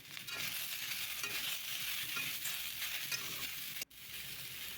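Drumstick pods (sajne data) and tomato fry in a pan with a steady, fairly quiet sizzle and occasional stirring, no speech.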